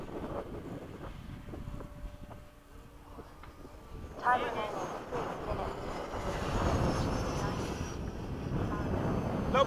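F-4 and F/A-18 jet aircraft flying in formation at LFE, a broad roar that swells loudly midway and holds steady with a faint whine, with people talking over it throughout.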